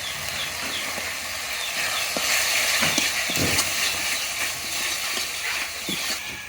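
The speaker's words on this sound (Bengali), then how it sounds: "বাটা মশলা কিন্তু একটু কষায় নিচ্ছি এবারে দিয়ে দেবো একটু মরিচের গুঁড়া ধনিয়া গুঁড়া ও জিরার গুঁড়ো" Spice paste with chili, coriander and cumin powder sizzles and hisses in a hot pan while cooking beef korma, a steady fry with scattered soft stirring clicks and no voices.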